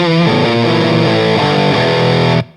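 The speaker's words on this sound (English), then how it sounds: "The pedal sounds really thick and things get quite distorted." Electric guitar played through a Providence Stampede DT distortion pedal at high gain gives a thick, heavily saturated run of chords, loud and alone, ending abruptly.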